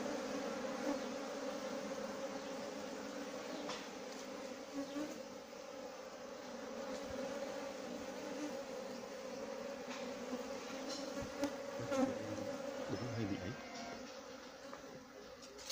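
A honeybee colony drones at the hive entrance, a steady close buzz of many bees that runs throughout, while people talk faintly in the background.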